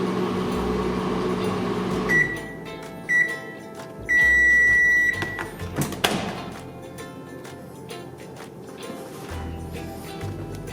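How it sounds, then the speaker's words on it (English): A microwave oven melting white chocolate: a low running hum, then beeps as buttons are pressed, a longer tone, a door thump, and the hum resuming. "So let's stick it in the microwave."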